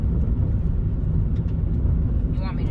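Low, steady engine rumble from a Honda car crawling through a sand trap, heard from inside the cabin. Voices chime in briefly near the end.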